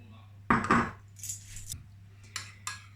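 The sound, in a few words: spoon mixing lemon juice and maple syrup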